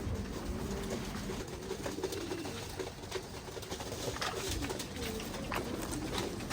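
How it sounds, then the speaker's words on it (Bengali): Racing pigeons coo softly in a loft, a low repeated burbling murmur from several birds that continues steadily throughout, with no talking. "আমার কিন্তু প্রায় একশো পঞ্চাশটার উপরে কবুতর আছে"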